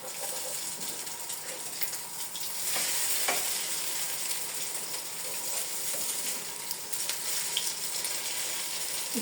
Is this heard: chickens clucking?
no